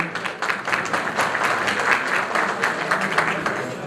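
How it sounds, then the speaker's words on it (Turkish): An audience at an iftar gathering of industrialists and business people in Arnavutköy breaks into close, sustained applause, many hands clapping densely with some voices mixed in. "kendilerine buradan yürekten bir alkış gönderelim"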